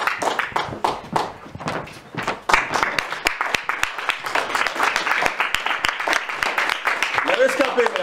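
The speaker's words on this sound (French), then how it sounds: "Mesdames et messieurs, je vous demande d'applaudir." A live show audience at a Swiss touring performance clapping, sharp separate claps building into denser applause, mixed with some voices and stage noise.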